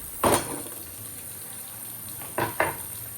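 Sizzling bursts as tomatoes go into a hot pan for a Marathi-style vam fish curry, with a loud frying hiss at the start and two shorter sizzles later over a steady background hum.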